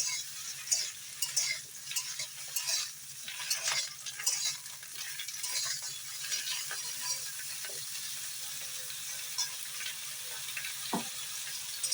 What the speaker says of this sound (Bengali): সেই কারণে বেগুনটা ভাজার জন্য অল্প তেল দিই।